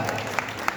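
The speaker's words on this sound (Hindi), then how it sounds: "तालियां बजाकर" A crowd at a chaturmas kalash installation ceremony in Balaghat claps, a short burst of dense applause with a few sharper claps standing out.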